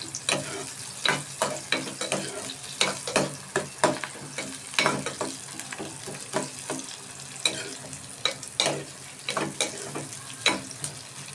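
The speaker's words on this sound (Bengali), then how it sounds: "পেঁয়াজ কুচিগুলো ভালোভাবে নাড়তে থাকবো ব্রাউন কালার আসা পর্যন্ত" Chopped onions frying in a pan while being stirred until brown for a loitta fish dish, an ongoing sizzle broken by repeated scraping clacks of the spoon against the pan at an irregular pace.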